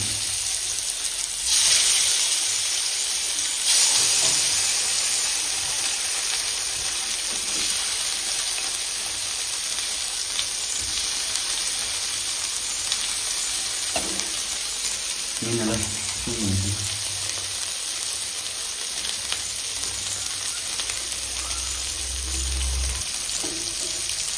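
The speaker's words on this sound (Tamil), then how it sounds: "மீன் ஃப்ரை பண்ணிடலாம்" Fish frying in a pan, a broad, continuous sizzle held throughout with occasional spatters and utensil knocks, a voice speaking briefly over it.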